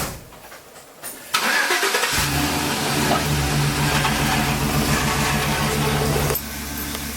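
A truck engine cranks over and catches about a second in, then settles into a loud, steady idle that rumbles on for several seconds before easing slightly near the end.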